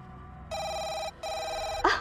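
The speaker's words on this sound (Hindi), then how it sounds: "मुबारकी के फोन आने लगे।" A telephone rings indoors in two long, steady electronic trills separated by a short gap, clear and fairly loud, followed by a brief rustle.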